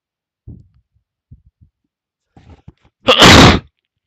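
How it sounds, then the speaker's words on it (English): After a few soft breaths and small mouth sounds, a person lets out a single sharp, loud sneeze close to the microphone near the end. "Sorry, I need to sneeze."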